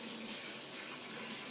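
Tap water runs steadily onto fruit to loosen its peel before slicing, a constant close hiss of flowing water with no pauses, for a smoothie.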